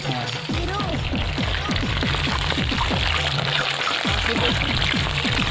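Hot water poured over boiled mutton while cooking a feast, a steady broadband splashing pour running continuously and fairly loud, with scattered clinks and knocks underneath.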